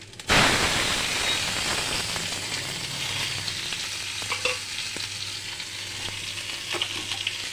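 Hog plums dropped into hot oil with a dried chili and five-spice seeds for chutney, bursting into a loud sizzle that settles into a steady frying hiss with occasional stirring clinks.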